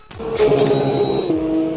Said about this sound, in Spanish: Está por salir a la pista la Ferrari.